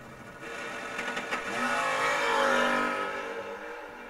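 Drag race cars, a Chevy II wagon and a fourth-generation Camaro, running side by side at a strip, giving a loud broadband engine roar that swells to a peak mid-run and then eases off slightly, with no talk.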